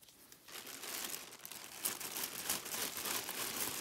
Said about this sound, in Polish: Worek, otwieramy.